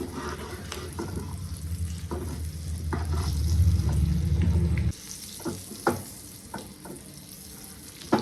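Boiled eggs frying in a pan for egg curry, a steady sizzle with scraping stirs that swells, then drops off around five seconds, leaving sparse clinks and taps.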